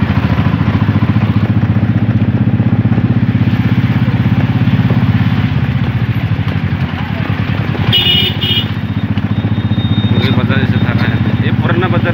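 Busy town street traffic with motorcycles, cars and rickshaws, a dense, loud rumble of idling and passing engines with rattling clatter and a brief horn-like tone, continuous throughout.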